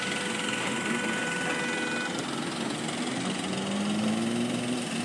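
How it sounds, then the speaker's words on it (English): An excavator engine runs continuously on a hillside beside a coastal highway, giving a steady mechanical drone with a slowly shifting pitch and no clear talking over it. "Excavator up on the hillside, so I dig it off."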